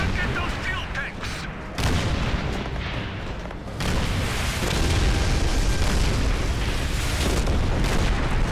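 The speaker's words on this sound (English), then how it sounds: "Big boom! Target those fuel tanks." Fuel tanks exploding in Call of Duty 3, a series of loud deep booms and blasts with rolling rumble and crackle, heavy and sustained, punctuated by short gaps.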